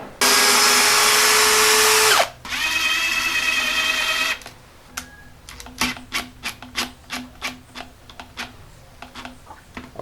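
A power drill whines loudly in two long runs driving screws into wood, then stops, followed by a string of short, sharp tapping and clicking sounds.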